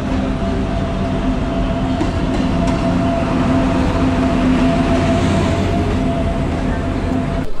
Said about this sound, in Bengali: এটা হচ্ছে Sealdah two Lalgola passenger special train